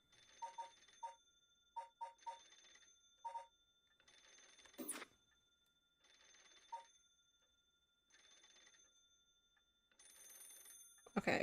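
Telephone in the video game Paranormasight rings in repeated bursts of a bell-like trill with pauses between, fairly quiet and clean, interrupted by a couple of sharp game interface effects.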